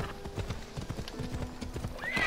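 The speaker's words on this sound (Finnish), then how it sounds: "missä mun hevonen viipyy?" Horse hooves clip-clop in a quick, steady rhythm in Assassin's Creed Odyssey, close and clear, with a horse whinny near the end.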